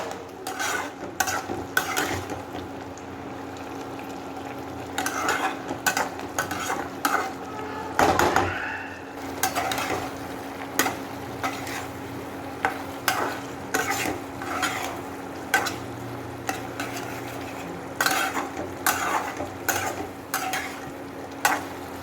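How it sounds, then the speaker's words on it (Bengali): Hilsa with pointed gourd and tomato masala fries down in a pan, a soft steady sizzle punctuated by repeated sharp spatula scrapes and clacks in irregular bursts, close and without speech. "এবার এটা কষিয়ে নেব ভালো করে"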